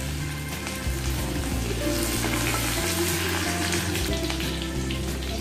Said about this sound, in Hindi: ये मैंने कढ़ाई में तेल गरम किया है। अब मैं इसमें डालूंगी लहसुन, हरी मिर्ची।